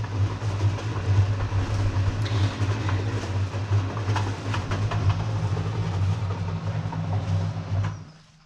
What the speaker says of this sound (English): sorry about the noise of the cement mixer